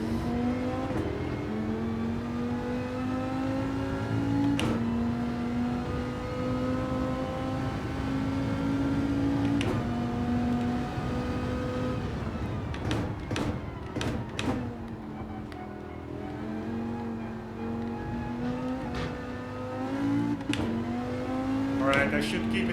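Gran Turismo 7 car engine droning and revving through gears, with repeated sharp shift cuts and pitch dips as the car accelerates and brakes, steady and loud throughout with a voice occasionally speaking over it.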